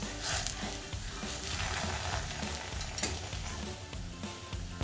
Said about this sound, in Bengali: এবার আমি পনিরগুলোকে ভেজে নেব